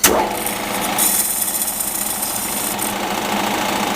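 A lathe cuts off a pipe at low speed with emulsion coolant: a loud, steady grinding and rattling that starts suddenly and carries on without a break, close by and with no voices.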